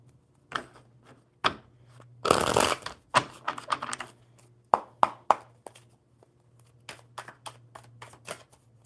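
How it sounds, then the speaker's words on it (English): Playing cards shuffled by hand before a tarot-style reading, giving quick papery riffles and bursts, one long loud riffle in the middle, then scattered crisp snaps and taps over a low steady hum. "One more good shuffle."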